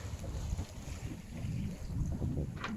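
A sailboat glides at about five knots with its engine shut off, steady wind rushing and water washing against the hull at close range, with no motor noise.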